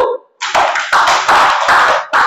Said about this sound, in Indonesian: Apresiasinya tepuk tangan untuk kelompok 1.